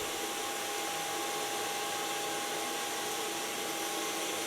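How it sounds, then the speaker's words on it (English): A hair dryer runs with a steady, continuous whoosh and a faint whine, unchanging throughout. "Take a blow dryer and just circle with my fingers."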